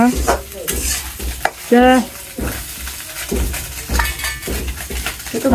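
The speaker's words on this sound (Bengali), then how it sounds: "এই যে মার মাছ ভাজি হয়ে গেছে, এখন নামিয়ে নিব" Puti fish frying in a pan, close sizzling with scraping and clinking of a utensil against metal, while someone talks over it with a brief tonal vocal sound midway.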